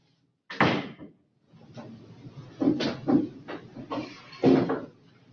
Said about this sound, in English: Leon, can I get you to shut that door for me?